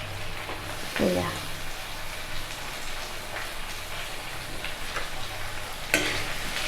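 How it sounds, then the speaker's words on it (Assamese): Meat dry-frying in a pan over high heat without water, a soft continuous sizzle broken by a few sharp scraping stirs, fairly quiet. "এইখিনি মই ভালকৈ মানে বেছি জুইতে অলপ সময় ভাজি থাকিম"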